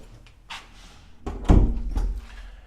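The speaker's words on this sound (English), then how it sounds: "Let me close the door here." A door is pulled shut indoors at a home in Veracruz, Mexico. A few light knocks and rattles lead into a solid thud, followed by brief settling noise, with no talking.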